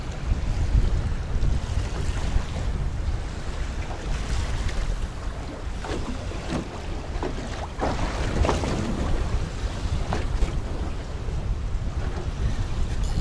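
Strong wind of about 15 m/s roars steadily over open water during jig fishing for zander from a boat, with constant buffeting on the microphone and waves washing around the hull.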